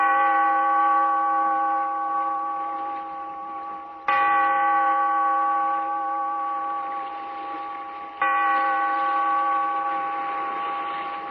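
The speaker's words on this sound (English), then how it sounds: "Bellkeeper, toll the bell" A deep bell tolls three times at even intervals as a radio drama sound effect, each strike ringing out clearly and decaying slowly before the next.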